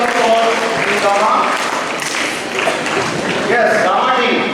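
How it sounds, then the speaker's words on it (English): Spectators at an inter-school maths quiz competition give team Gamma a loud, dense round of applause, lasting several seconds while voices talk over it. "A huge round of applause for Gamma."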